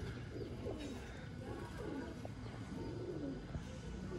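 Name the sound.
pigeon cooing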